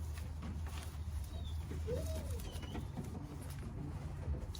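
Racing pigeons at a loft coo softly in the background, low rolling calls repeating faintly at a distance under a quiet, steady room hum.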